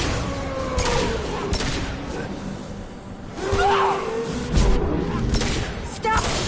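Gunfire from the sci-fi shooter Mass Effect 2, with repeated bursts, booms and whooshing shots crowding a busy combat mix, and a voice in the background.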